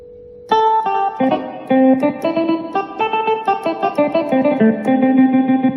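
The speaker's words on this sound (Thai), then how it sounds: "อันนี้พินอีสานนะครับผมเสียงพินนะครับผม" A Yamaha S-650 keyboard's Isan phin lute sample plays a bright, twangy melody of quick repeated notes with a slight electronic sheen, loud and close.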